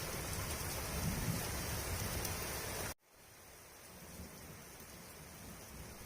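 Heavy monsoon rain pours steadily at night with a deep rumble of thunder, then abruptly drops away to a softer, quieter rainfall.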